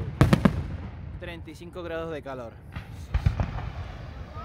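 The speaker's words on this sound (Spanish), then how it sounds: "Estamos viendo los fuegos artificiales" Fireworks at the Utrera fair, sharp bangs and crackling bursts in clusters at the start and again later, loud and close, with people talking in Spanish between and over them.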